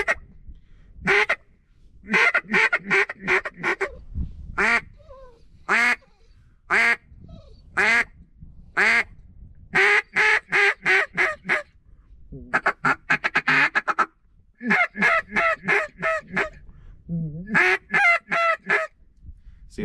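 A waterfowl hunting call is blown in quick bursts, producing honking goose notes and rapid duck quacks in irregular clusters separated by short silences, close and loud with no talk over it.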